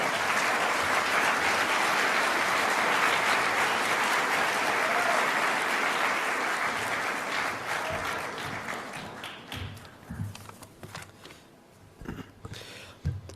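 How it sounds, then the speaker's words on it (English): Sustained audience applause at a Freedom from Religion convention, loud and dense for several seconds before thinning into scattered claps and dying away toward the end. "let's give him an extra round of applause"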